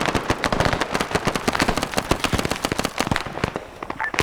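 A grenade goes off in a Vietnam-era combat video game on a Zeus operation, within a dense stretch of loud, rapid cracks and bursts that resemble gunfire or crackling explosions.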